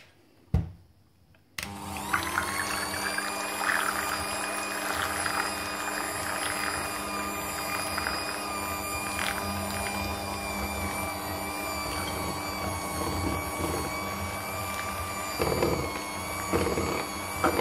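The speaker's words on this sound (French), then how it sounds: "On va fouetter ensemble les ingrédients jusqu'à ce que le tout soit bien homogène." An electric hand mixer whisking cake batter for a sweetened condensed milk cake, a click then a loud steady motorized whir close by, running continuously with slight changes in tone.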